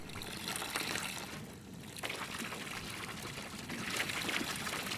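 Beer being poured from a brewing vessel in the Brewmaster beer brewing simulator game, a steady splashing pour and trickle lasting throughout with a brief dip midway, no talk.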